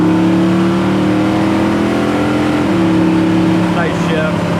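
A 1966 Chevelle SS accelerates hard with a strong, close engine roar, then a kick-down shift drops the revs partway through before it climbs again, with voices talking over the engine noise.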